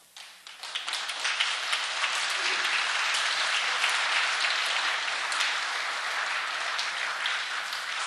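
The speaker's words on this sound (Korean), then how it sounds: "저 박수로 환영하자" Dense, sustained applause from a large audience welcoming someone at a peace message gathering, swelling quickly at the start and staying loud and continuous throughout.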